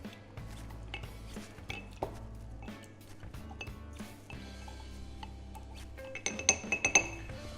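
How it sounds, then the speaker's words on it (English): Rosemary sprigs being muddled in a whiskey cocktail glass, giving soft dull thuds and scattered glassy clinks, with brighter, sharper clinks clustering toward the end. "We're going to muddle those gently with the cocktail, just to help release some of the oils in those rosemary sprigs."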